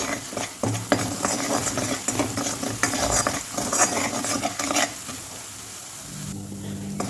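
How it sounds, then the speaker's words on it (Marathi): A spice paste seasoned with salt and half a spoon of turmeric, cooking for besan vadi, sizzles and fries in a pan while a utensil stirs and scrapes through it steadily, close and moderately loud. "चवीपुरतं मीठ टाकून घ्यायचं आहे आणि अर्धा चम्मच हळदी हे सगळं आपण मस्त फ्राय करून घेऊ"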